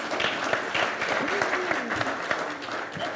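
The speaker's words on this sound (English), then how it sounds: "Loud clap." Sustained applause from an audience at a national logistics summit, dense and steady clapping for about three seconds, with some voices faintly mixed in.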